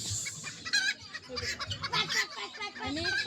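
Several chickens cluck and squawk nearby in quick, irregular bursts, with a faint voice in the background.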